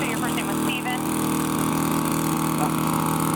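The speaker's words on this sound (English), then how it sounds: "a guy's going past with a weed whacker" String trimmer running nearby in a riverfront park in Salem, a steady buzzing engine drone coming through a phone line, with a voice faintly over it.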